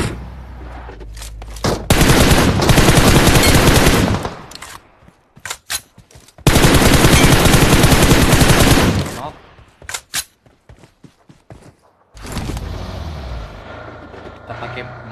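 Rapid automatic gunfire in the shooter game PUBG Mobile, long loud sprays of shots in several bursts separated by brief pauses, with a player talking between them.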